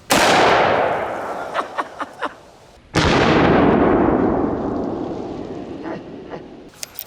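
Two very loud, close gunshots from .500 Magnum snub-nose revolvers, each a sharp blast with a long rolling echo that slowly fades, with faint clicks and small pops between and after the shots.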